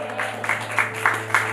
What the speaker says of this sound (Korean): 나를 가장 완전한 길로 이끄시는 그 주님 앞에 영광의 박수 올려드립시다